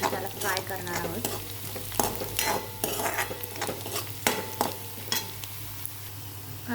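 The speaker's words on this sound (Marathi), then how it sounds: "मस्त असा गुलाबी रंग येऊपर्यंत आपण त्याला फ्राय करणार आहोत" Onion frying in a pan for cauliflower bhaji, stirred now and then until pink: a steady close sizzle broken by repeated scraping strokes of a spoon against the pan, with no voices.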